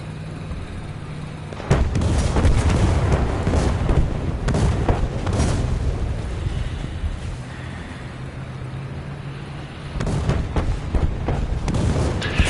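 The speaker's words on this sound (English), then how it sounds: "There is so much artillery dropping right now for no reason." Artillery shells exploding in War Thunder, a barrage of heavy booms and blasts arriving in irregular bursts, some close and loud, with rumbling battle noise filling the gaps between impacts.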